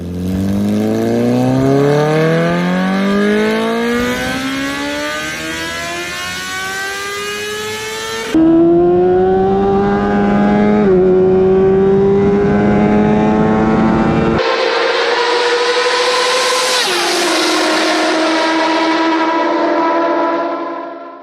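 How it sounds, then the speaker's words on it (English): A one-liter motorcycle engine screams at high RPM, about 14,000, in loud sustained revs that climb steadily in pitch, break between runs, then hold a piercing, buzzing howl with no voices. "let me introduce you to the liter bike engine"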